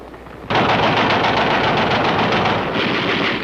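Automatic rifle fire in a video game, a loud sustained burst starting abruptly and continuing as rapid, dense shots for about three seconds with no talking.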